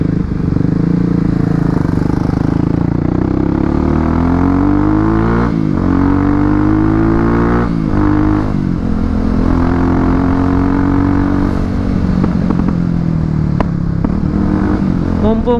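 A Kawasaki KLX300 motorcycle being ridden, its engine droning steadily and loud with the throttle opened and eased in repeated rising and falling revs, plus wind noise and brief talk over it.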